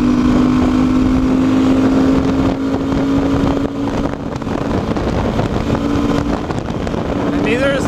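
A Beta 390 RRS dual sport motorcycle cruises on the interstate, its buzzy engine holding a steady drone under heavy wind roar, with a voice talking over it.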